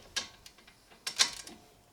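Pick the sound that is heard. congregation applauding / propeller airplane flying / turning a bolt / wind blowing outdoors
turning a bolt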